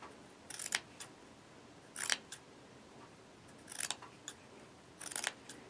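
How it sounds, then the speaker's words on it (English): Scissors snip fabric into a fringe, cuts spaced about a quarter inch apart, in four quick crisp bursts of two or three close snips each, with near silence between them. "And then I'm going to cut these about 1/4 of an inch apart."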